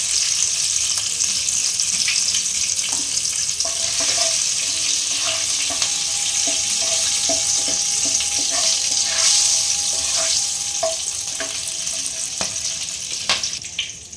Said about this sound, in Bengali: আমি ফোড়নের জন্য 2টো এলাচ, একটু দারচিনি আর 3-4টা লং, এটা আমি দিয়ে দিচ্ছি